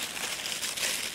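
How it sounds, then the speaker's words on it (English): Thin plastic bag, like a cheap sandwich bag, crinkles steadily up close while an Atari VCS console and its parts are unpacked from the box, a dense continuous rustle with no pauses. "It's in a plastic bag."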